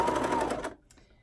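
A sewing machine stitches slippery swimwear fabric in a short, fast whirring burst that stops abruptly, followed by a few faint clicks.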